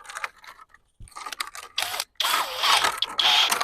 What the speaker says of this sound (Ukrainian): Тепер шуруповерт